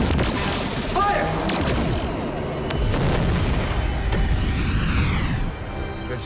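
Dense, loud starship weapons fire and booming explosions from a Star Trek: Picard space battle, a continuous roar of blasts, crashes and mechanical rumble with a voice briefly audible underneath.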